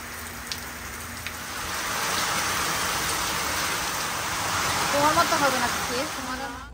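Steady outdoor rain falls near a rural home where a duck curry with coconut milk is being cooked, a continuous hiss of drops that swells toward the end, with faint voices briefly audible beneath it.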